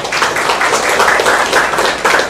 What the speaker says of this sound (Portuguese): Aplausos para os convidados